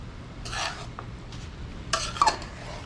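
Vegetables for a Guyanese veggie chowmein are stirred and tossed in a pan outdoors in a backyard, giving a few soft scraping sweeps and light metallic clinks of a utensil against the pan, with quiet gaps in between.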